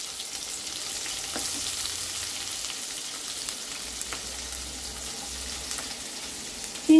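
Onion sizzling and frying in a pan with green chillies, a steady, quiet crackle with a few faint clicks and a louder clatter at the very end.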